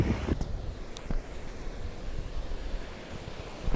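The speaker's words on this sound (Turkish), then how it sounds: "burası rüzgarlı olduğu için çok fazla konuşmak istemiyorum" Strong wind buffets the microphone by the sea at Kısırkaya, with waves and surf rumbling continuously underneath and no voices.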